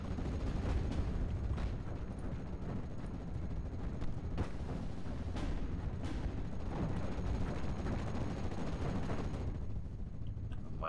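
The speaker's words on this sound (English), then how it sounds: "My artillery's still coming in." Artillery fire in the WWII game Steel Division: Normandy 1944: repeated booming impacts and sharp bursts of gunfire over a low rumbling battle bed, fairly quiet and distant, arriving irregularly throughout.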